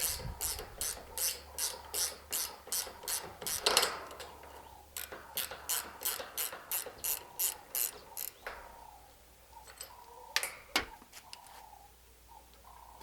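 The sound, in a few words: ratchet twisting off a long rusted stud on a Hilux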